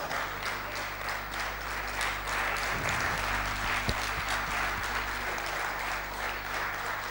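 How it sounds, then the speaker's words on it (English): An audience at a MAP convention session in Lahore gives a large round of applause, steady, dense clapping over a low continuous hum from the hall's sound system. "give them a large round of applause"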